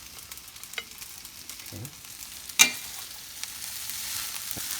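Mung beans stir-frying in a pan of fried rice, giving a steady bright sizzle with scraping stirs and one sharp clatter, close and fairly loud, with a brief spoken word.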